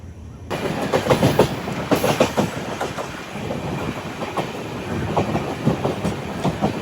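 The Vivek Express train rumbles steadily along the rails with a rhythmic clickety-clack of wheels, heard from inside or close by, no voices.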